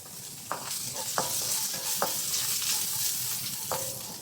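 Garlic sizzling loudly in a hot pan while being stir-fried for water spinach with crab paste and pork, a steady hiss broken by four or five sharp spatula scrapes.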